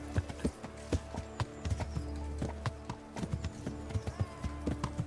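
Horse hooves clip-clop steadily in Kingdom Come: Deliverance, a quick run of quiet, rhythmic hoof strikes over a low background hum.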